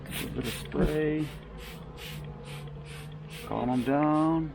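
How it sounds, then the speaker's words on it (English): Sugar water sprayed from a hand sprayer onto honeybees in an opened queen mating nuc: a run of short, evenly spaced hissing puffs over a steady hum, with a voice breaking in briefly. "A bit of spray."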